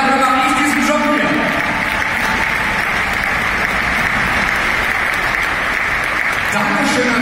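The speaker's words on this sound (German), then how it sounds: "dein Applaus" A crowd claps and cheers at a farewell event, producing a loud, continuous wall of applause with voices and some tonal sound mixed in throughout.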